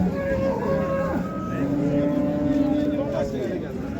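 A cow at a busy livestock bazaar in Karshi gives a long, low, drawn-out moo, close by, over steady crowd murmur and market noise.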